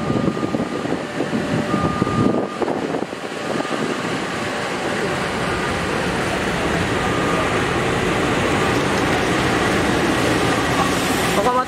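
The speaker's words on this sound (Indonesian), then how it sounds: "Kereta api Wijaya Kusuma masuk stasiun Ngawi," Wijaya Kusuma passenger train hauled by a CC206 diesel locomotive rolling into Ngawi station on track 1, a steady loud rumble of wheels and cars with wind noise, rising slightly as it nears; a voice speaks briefly early on.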